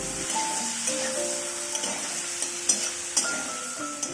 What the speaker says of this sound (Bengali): কাঁচা আমটা এখন তেলের মধ্যে দিয়ে কয়েক সেকেন্ড একটু নাড়াচাড়া করে নেব